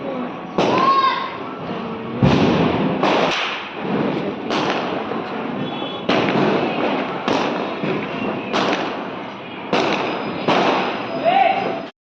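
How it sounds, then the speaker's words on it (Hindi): A string of firecrackers goes off in a residential street during Diwali. Loud sharp bangs come in rapid irregular bursts, each one close and punchy and echoing off the buildings, with short gaps between clusters. "यहाँ पर ये लोग पटाखे जलाने में लगे हुए थे, पूरी लड़ी की लड़ी जला दी थी"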